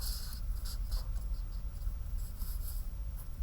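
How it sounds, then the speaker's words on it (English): Pen scratching across paper while writing notes by hand, a soft steady scribbling that runs throughout, close but quiet, with no talking. "So let's write that down."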